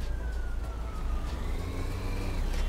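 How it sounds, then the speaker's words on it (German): Police sirens wail in the distance of a city driving simulator, Taxi Life, a faint wavering tone riding over a steady low engine rumble with no one speaking. "man hört die ganze Zeit Sirenen"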